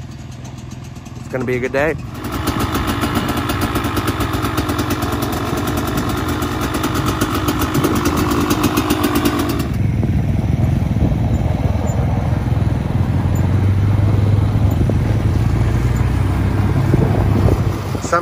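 Several motorcycles warm up and idle out on a frozen lake for ice riding, a steady engine drone running throughout with one machine revving near the start, while people talk over it.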